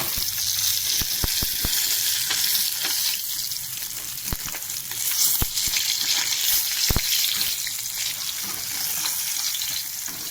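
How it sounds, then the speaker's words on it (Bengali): Fish frying in hot oil with cumin, bay leaf and dried chilli makes a loud, steady hiss and crackle. Occasional sharp pops and clicks break through, close up, with no voices. "যেগুলো আছে বাকি সেগুলো আমি আবার ভাজবো"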